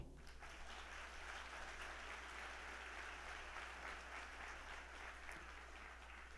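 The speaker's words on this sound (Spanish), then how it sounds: "Aplauso, por favor." Sustained applause from a crowd at a marketing presentation, steady and dense for several seconds with no voices over it.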